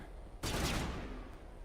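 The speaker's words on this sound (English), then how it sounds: "What are you shooting at?" A burst of gunfire in the Mass Effect 1 video game, a sudden loud volley of rapid shots that fades into a lingering rumble over about a second.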